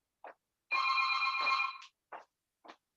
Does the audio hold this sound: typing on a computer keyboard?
no